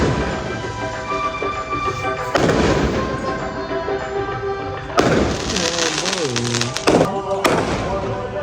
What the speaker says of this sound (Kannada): ಪಟಾಕಿ ಹೊಡಿದವ್ರೆ ನೋಡಿ ನಮ್ಮೂರಲ್ಲಿ